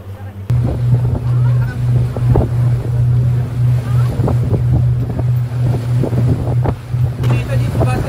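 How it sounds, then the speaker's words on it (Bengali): A motorboat cruising on the open sea off the Andaman Islands, its engine a steady low drone under wind buffeting the microphone and splashing water, while people talk over it. "আমাদের বোটটা ছেড়ে দিয়েছে।"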